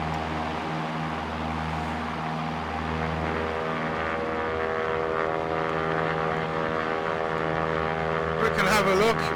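A propeller aircraft engine drones steadily in the X-Plane flight simulator during a flyover of Blackpool. The hum is constant and fairly loud, with a brief rise near the end.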